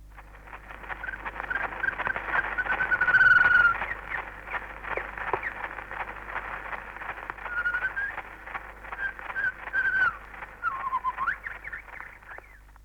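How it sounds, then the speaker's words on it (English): A scratchy, muffled early wax cylinder recording with constant hiss and crackle, through which a bird's song faintly whistles and warbles. "the primitive but first recording ever made of the sound of a bird"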